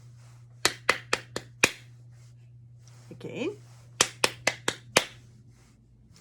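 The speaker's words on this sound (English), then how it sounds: "if you could clap this, listen to it" Hands clap out a rhythm in two bursts of about five sharp claps each, close and crisp, with a brief spoken word between them.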